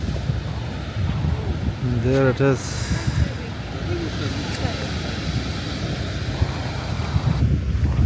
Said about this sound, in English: A massive waterfall.